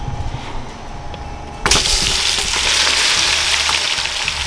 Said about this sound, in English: We're gonna cook that bacon first, get it all nice and crispy, and then we'll add the potatoes.